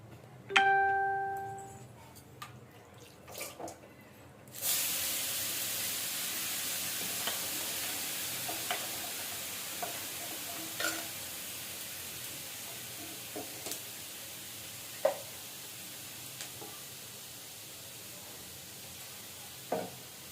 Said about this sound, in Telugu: ఇప్పుడైతే దోశ వేసుకుంటున్నా, చూడండి.